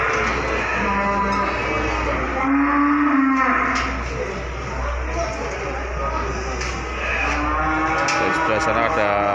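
Cattle lowing at a crowded livestock market where big cows are being weighed, several drawn-out moos from nearby animals over a steady din of crowd noise and background voices.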